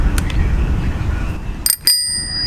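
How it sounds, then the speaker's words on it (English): A bicycle bell on a seven-gear bike with basket rings with bright metallic dings, a couple of quick faint taps followed by two louder rings that linger over a low background hum. "and then it has a bell"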